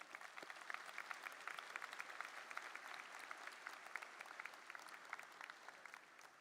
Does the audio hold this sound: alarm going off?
no